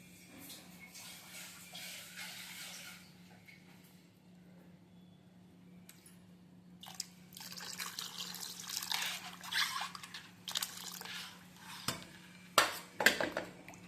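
Water is poured and stirred into a pot of temple-style tomato rasam seasoned with salt and homemade masala, giving soft trickling and clinking of a spoon against the vessel, quiet at first and then busier, with louder scraping knocks near the end.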